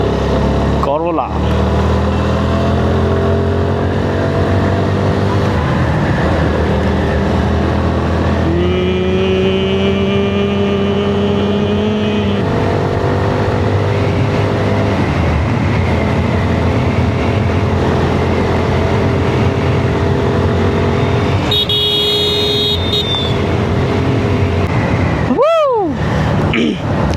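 A motorcycle rides along a road on a morning trip, its engine droning steadily over loud wind rush, with rising and falling pitch as it shifts and passes other traffic.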